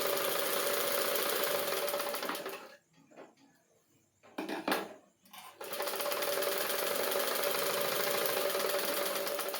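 A sewing machine stitches the shoulder joint of a size 32 blouse, its steady close whirring running continuously, dropping out for a couple of seconds mid-way with a short burst in between, then resuming at full pace.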